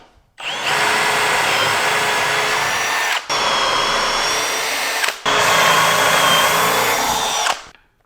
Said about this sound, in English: let's get a little bit of Forstner bit action going on